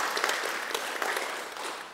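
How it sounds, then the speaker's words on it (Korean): An audience at a Buddhist summer retreat's closing ceremony gives warm, sustained applause, many hands clapping in a steady wash that fades slightly toward the end. "박수를 좀 보내드리고"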